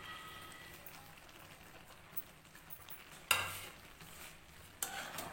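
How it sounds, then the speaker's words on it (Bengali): A spoon scrapes and stirs jujube pickle with spices in a pan, soft and quiet, with a faint sizzle underneath and two sharp clinks of utensil against metal near the end. "আবারও ভালো করে নেড়ে চেড়ে নেব মশলার সাথে"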